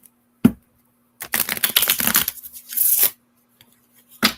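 Tarot oracle cards shuffled by hand: a sharp tap, then a riffling burst of card flicks lasting a couple of seconds, a brief pause, and another tap at the end, all close and with no voices.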